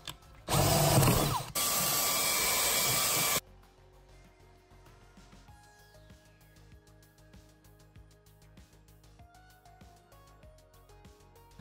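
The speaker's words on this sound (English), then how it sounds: "So I'm pretty much good to go ahead and drill a hole wherever I want." A power drill bores a hole through an HO scale model railroad layout in a loud, steady whine lasting about three seconds, followed by quieter ticks and faint handling sounds.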